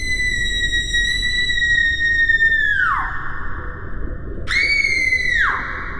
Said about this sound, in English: Is that someone yelling?